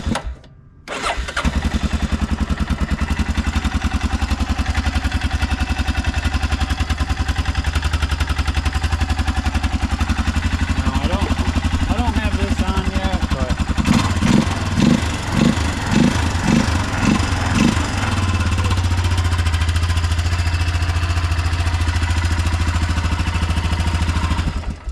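An Arctic Cat 400 4WD ATV engine starts and runs close by, a loud steady mid-pitched idle with a short burst of revving partway through, then settling back to a low rumble.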